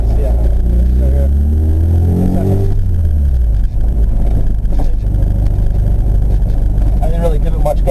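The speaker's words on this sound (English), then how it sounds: "It's kind of bucking a little bit, yeah, because I'm not giving it enough gas" Manual transmission car bucking from too little gas during a first driving lesson, a low lugging engine rumble with uneven surges, heard from inside the cabin while people talk.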